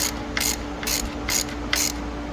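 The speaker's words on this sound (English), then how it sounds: "I'm using a 15mm short socket with a swivel and a lot of extensions." A ratchet fitted with a 15mm short socket, a swivel and several extensions turns bolts while installing catalytic converters on a 2013 GMC Sierra, giving four or five quick bursts of close, crisp clicking with short pauses between them.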